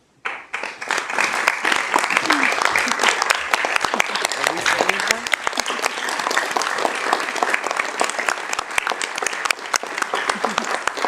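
An awards presentation audience for APEX award recipients bursts into sustained, even applause lasting several seconds, a dense mass of clapping from many people in a large room.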